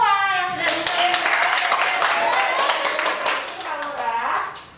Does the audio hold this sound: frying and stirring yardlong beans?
no